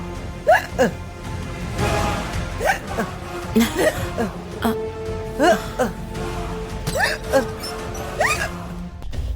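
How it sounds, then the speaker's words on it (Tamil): Repeated loud, sharp hiccups in a steady rhythm, close and clear, from a woman in a Tamil TV drama scene, with short vocal sounds between them. "ஏன் இப்படி விக்கிட்டே இருக்கீங்க?"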